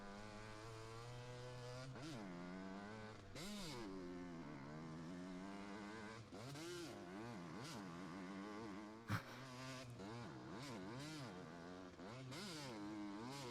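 Motocross bikes in the MX vs. ATV Alive racing game rev and wind up continuously, engine pitch rising and falling in repeated surges, loud and close, with a sharp knock partway through and no talking.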